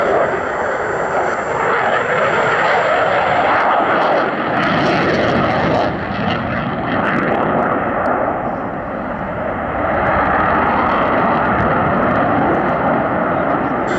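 A Eurofighter Typhoon jet in special D-Day anniversary paint flies at the Duxford airshow, a loud continuous broadband roar that swells and eases slightly across the pass, with no talk.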